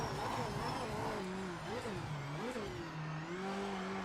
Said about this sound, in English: You could hear it like the car was juddering or jumping, and it was very strange.